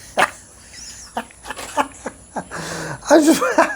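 A small rescue pup reacting after eating a hot chip, giving a string of short yips, whimpers and coughing sounds, close and fairly loud, with a few brief bird-like squeaks at the end.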